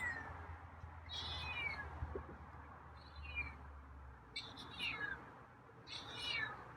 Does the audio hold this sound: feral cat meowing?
yes